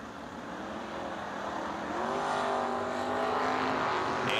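An Oldsmobile race car at a drag race roars steadily and builds in loudness as it revs, a sustained engine drone with a rising pitch, with no talk over it.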